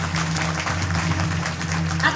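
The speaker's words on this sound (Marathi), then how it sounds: "एकदा आपणच आपल्यासाठी जोरदार टाळी वाजवूया." Audience clapping fills the pandal at a kirtan held for a Shiv Jayanti celebration in Anjanpur-Kopra. The applause is steady and dense throughout, with a low sustained drone underneath.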